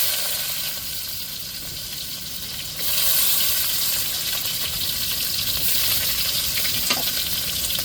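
Onions going into hot oil with mustard seeds, a continuous broad frying hiss that turns louder and fuller partway through, steady and close with faint stirring, no talk.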